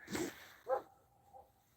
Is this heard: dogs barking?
yes